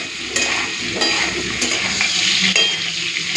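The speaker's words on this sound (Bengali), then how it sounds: "পটল আর আলুটাকে ভালো করে ভেজে নিয়েছি" Potato and pointed gourd pieces fry in hot oil, giving a steady sizzle broken by a few scrapes and stirring knocks of a utensil in the pan, with no voices.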